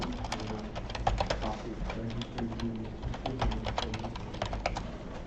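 Quick bursts of key clicks from typing a command on a computer keyboard, irregular and close, with a low background hum and some faint voice-like murmur underneath.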